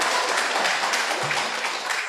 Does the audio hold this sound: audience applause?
yes